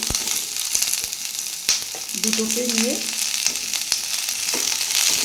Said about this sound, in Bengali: ফুলকপিটা একটু তেলটা মাখা মাখা হয়ে যাবে একটু ভাজা ভাজাই হবে